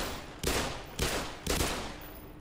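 Three loud gunshots from the Black Mesa game, each a sharp blast with a decaying tail, spaced about half a second apart and heard alone.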